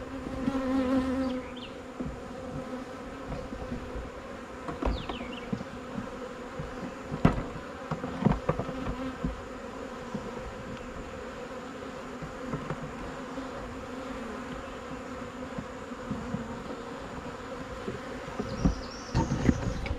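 Honeybees buzz around plywood beehive boxes in a continuous, moderately close drone, with a few louder insects passing by and some faint knocks and bumps.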